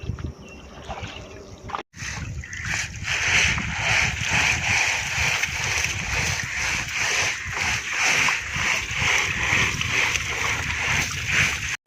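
Freshly caught fish being washed in river water, with steady sloshing, splashing and gurgling close by, continuing in rhythmic churning strokes after a brief pause near the start.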